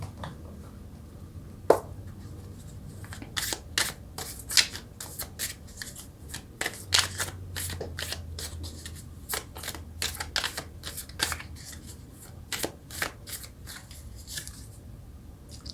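Tarot cards being shuffled by hand, a steady run of crisp riffling and slapping bursts close up, with no talk over it.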